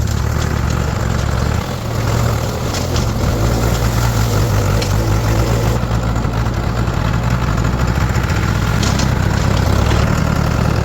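A loud, steady tractor engine chugs at idle close by, a continuous low rumble with no voices throughout.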